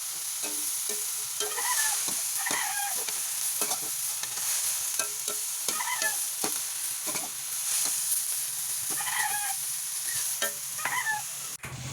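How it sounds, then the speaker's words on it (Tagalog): Water spinach (kangkong) for adobo is stirred in a hot pan. A spatula scrapes the bottom again and again in an uneven rhythm over a steady low sizzle, close by and with no voices. "Pagkalagay ko ng kangkong ay hinalo ko lang para hindi masunog sa ilalim."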